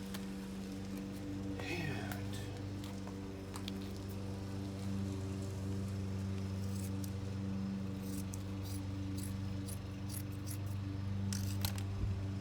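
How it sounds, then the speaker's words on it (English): Scissors cut with a few short, crisp snips along a straight edge, making a C8 Corvette hood copy, over a steady low hum, close by and fairly quiet. "Now I come in with the scissors."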